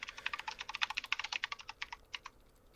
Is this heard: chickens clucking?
no